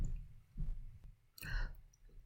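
A single quiet computer mouse click selecting a tile on a payroll software dashboard, a brief tick set against faint background noise and soft rustling.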